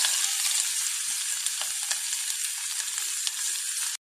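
Finely chopped onion and small shallots fry in oil with mustard seeds and fenugreek for a Kozhikode chicken curry, giving a loud continuous sizzle with light crackles, cutting out briefly just before the end.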